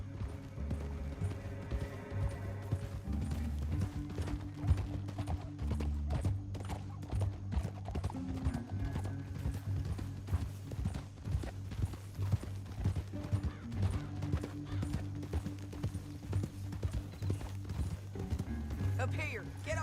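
Horse hooves clip-clop steadily in the Red Dead Redemption 2 video game, a quiet continuous rhythmic trot beneath game music and speaking voices.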